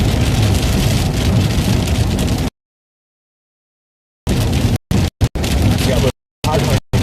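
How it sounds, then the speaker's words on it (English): Heavy rain pours during a storm while chasing flash flooding in Virginia, a loud steady broadband hiss that drops out entirely for a stretch and then returns in choppy bursts broken by short gaps. "Maybe it's the rain."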